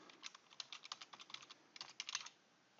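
A username being entered on a computer keyboard: quick, light, irregular key clicks in close succession, with a short pause midway, fairly quiet and without speech.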